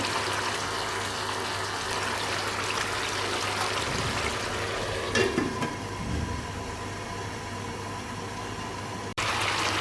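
Fish stew with bitter gourd simmering covered in a pan over low heat, a steady soft bubbling and sizzling texture that carries on through, with a faint brief clink partway and no talking.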